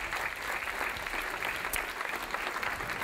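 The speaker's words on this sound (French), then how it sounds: "Vous pouvez l'applaudir très fort" A crowd at a live magic comedy show claps steadily and loudly throughout, a dense even wash of applause with no pauses.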